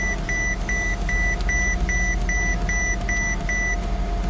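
A lift raises a wrecked Mercedes S550, its warning beeper chirping in a steady even rhythm about twice a second over a constant low motor hum.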